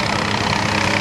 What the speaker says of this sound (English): The gas turbine engine is a jet engine, but it's one in which we utilize the expanding gases to turn a series of impellers and shafts